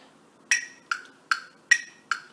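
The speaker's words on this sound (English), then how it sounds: "So I'll put my metronome here at 3-note subdivisions." A metronome clicks in triplet subdivisions, five crisp ticks evenly spaced about 0.4 seconds apart, with brighter accented clicks at the start of each group, close and alone against quiet.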